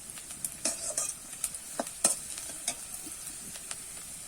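Onion and garlic are stir-fried in a pan, a soft, quiet sizzle broken by light, quick spatula scrapes and taps, close and with no speech.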